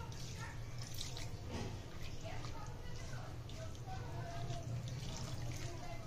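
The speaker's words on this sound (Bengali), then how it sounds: "এখন দিব পরিমাণ মতো জল।" Water pours steadily into a cooking pot of cut potatoes and small fish, mixed for a Bengali chorchori, with a soft continuous splash and a voice faintly in the background.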